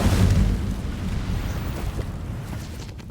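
The Incendio fire spell from Hogwarts Legacy goes off as a loud, roaring burst of flame that starts strong and slowly fades over about three seconds, with no talking.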